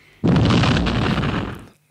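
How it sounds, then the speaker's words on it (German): Explosion sound effect played as a joke on a podcast, a single loud, close boom that hits suddenly and rumbles for about a second and a half before cutting off. "Das ist natürlich großartig eine schöne Explosion"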